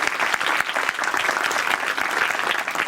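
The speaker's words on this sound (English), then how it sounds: "So big round of applause." A conference audience claps together in a hall at a cultural heritage event, a short burst of dense, even applause from many hands, fairly close and steady throughout, with no talk over it.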